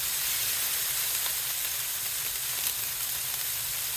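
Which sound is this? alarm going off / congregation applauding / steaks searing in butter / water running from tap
steaks searing in butter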